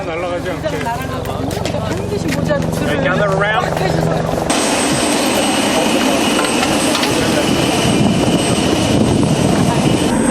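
A helicopter flies toward the Tasman Glacier on New Zealand's South Island, its engine roar and turbine whine loud and steady for the second half, after a stretch of voices and other sound at the start.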